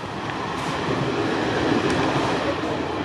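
A steady rumble of a moving train fills the clip, with a continuous rolling roar and faint rattling from the carriages.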